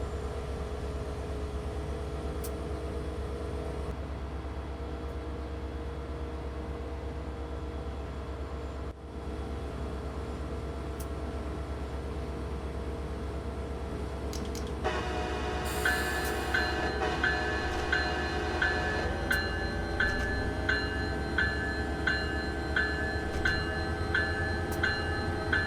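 A passenger train on the North Jersey Coast line from Bay Head in Train Simulator 2016 slows to a stop: a steady low rumble runs throughout, joined midway by sustained high squealing brake tones and faint rhythmic clicking.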